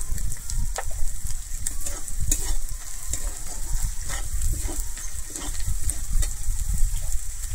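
Spices and turmeric sizzle and fry in a pan for a Bengali egg and potato curry, with a steady close crackle and intermittent scraping as the mixture is stirred, with no talking.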